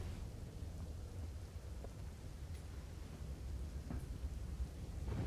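Steady, heavy monsoon rain pours down over Ahmedabad in a dense wash of noise while low thunder rumbles underneath, with a few brief crackles cutting through.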